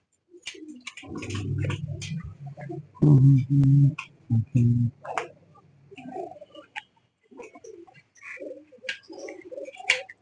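Pigeons coo in deep, throaty bursts, several close calls in a row among scattered bird chirps and rustling, with someone speaking intermittently.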